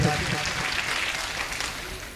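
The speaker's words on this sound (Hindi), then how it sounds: "एक तालियां होनी चाहिए इस व्यंग पे" Audience clapping at a Hindi kavi sammelan poetry gathering, a brief burst of dense applause from the crowd that fades over a couple of seconds, with a faint voice under it.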